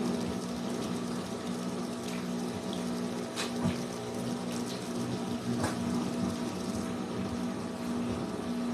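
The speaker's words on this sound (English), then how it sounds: "I need to add more water to my pod bucket." Water is added to a pod bucket, a steady low hum like a small pump runs under a continuous flow of water, with a few brief clicks and splashes scattered through it.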